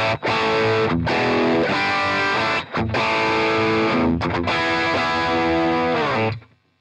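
Electric guitar run through a Great Eastern FX Design a Drive pedal into channel 2 of an overdriven Matchless Independence 35 amp, playing loud, sustained distorted chords with brief gaps, then ringing out and fading at the end.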